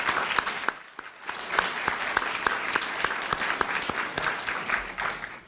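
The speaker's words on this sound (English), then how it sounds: "let's have a round of applause for Representative Gogan, please." Applause from an audience at an award ceremony, steady scattered clapping with sharp individual claps standing out, fairly faint and continuing throughout.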